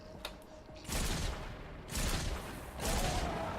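Vindertech Burster three-round burst rifle fired in Fortnite Save the World: three loud, evenly spaced bursts of rapid shots, each a short cluster of cracks, with brief quieter gaps between them.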